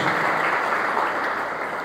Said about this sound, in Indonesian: Beri tepuk tangan terbaik buat Tuhan Yesus Kristus